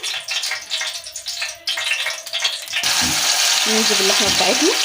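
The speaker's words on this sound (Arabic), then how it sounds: "نديها تشويحه بس كده" Meat hits melted ghee in a large tray, and a broad, steady sizzle rises and holds after a stretch of talk and clatter. Someone speaks briefly over the frying.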